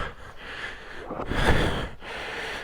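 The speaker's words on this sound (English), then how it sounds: "Breathing heavy now." A rider breathes hard and heavily after a steep, rough off-road climb on a Honda CRF300L dual-sport motorcycle, with close, gasping breaths and snorts that swell near the middle and then ease.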